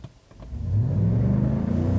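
A 2020 GMC Sierra AT4 pickup's 6.2L V8 revs up while driving, building from a low idle into a loud, sustained deep engine roar heard close by with no talking.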